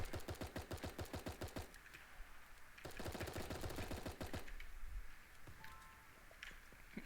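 Rapid cartoonish automatic gunfire in the top-down battle royale game Super Animal Royale, fairly faint, coming in two quick rattling bursts separated by a short pause, then scattered pops.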